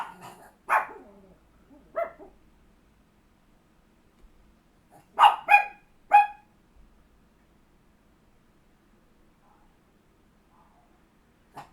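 Dogs barking in front of the house: two barks, a pause, then a quick cluster of three loud barks nearby, then near quiet with faint background sound.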